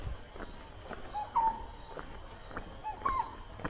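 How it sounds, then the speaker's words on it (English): Outdoor bird calls ring out in Singapore, short clear tonal notes repeated a few times at moderate distance over a steady background murmur of ambient noise. "Cuckoo, I hear a cuckoo sound."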